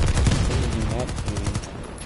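Fully automatic Glock pistol firing in Battlefield 2042, a rapid continuous burst of close, loud shots running through the whole moment amid game noise.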